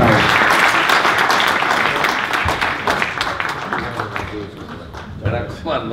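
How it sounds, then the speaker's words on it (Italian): Applause from a conference audience honouring a departing president, dense clapping at first that thins and fades over several seconds with a few scattered claps and voices near the end. "salutiamolo con un applauso."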